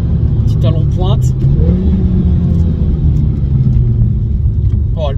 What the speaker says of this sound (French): Oh, le pétarade, frérot, je te jure.